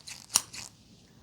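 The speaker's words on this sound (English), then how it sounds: "Scissors sound." Scissors snip three times close to the ear during an ASMR hearing test: three crisp, quick cuts, with the middle one sharpest, then quiet.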